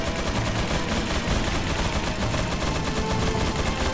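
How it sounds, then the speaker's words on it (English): Gatling gun fire in the video game Resident Evil 4, a dense, continuous loud rattle of rapid shots sustained for the whole stretch with no talk over it. "there's a guy with a Gatling gun"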